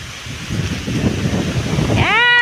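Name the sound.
strong wind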